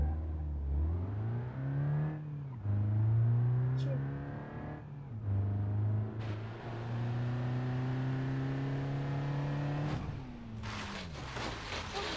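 An Opel Astra engine revs repeatedly in a series of rising and falling pulls, close and moderately loud, with pauses between and someone talking over parts of it.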